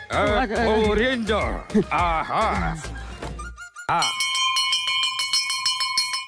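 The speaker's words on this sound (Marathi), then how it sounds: "जा घंटा वाजवा. वाजवा लवकर." A bright metallic bell rings out sharply and lingers with a long sustained tone, following several seconds of people talking and laughing.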